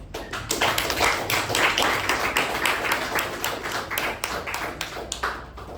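Club meeting audience gives a warm round of applause welcoming their president, steady overlapping claps with sharp individual hand strikes standing out, loud and continuous throughout.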